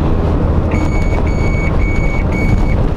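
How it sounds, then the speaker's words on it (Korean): Inside a Renault Master S van, the lane departure warning sounds four evenly spaced, bright beeping tones over steady cabin and road noise. "이 소리는 차선 이탈 경고 장치인데요, 소리가 또 딱 귀에 꽂히는 소리여서 도움이 많이 될 것 같습니다."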